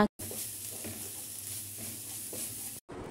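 Masala with salt and chili powder stirred in a hot pan, giving a quiet even sizzle with faint rhythmic scraping throughout and no talking, cut short by brief dropouts at both ends.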